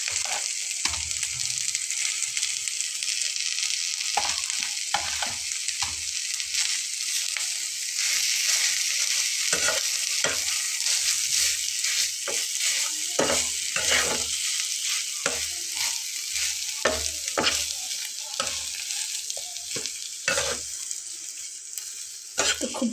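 Mashed potato being stirred into a fried mixture in a pan, with steady sizzling and a string of scraping spoon strokes against the pan running throughout, close and fairly loud.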